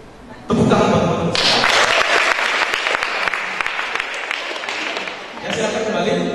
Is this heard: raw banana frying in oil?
no